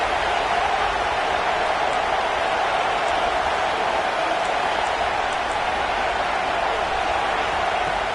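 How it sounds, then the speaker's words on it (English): Stadium crowd noise from an NCAA 25 college football video game, a steady loud roar that holds without break throughout. "It's early, but this crowd is fired up. Listen to this noise here."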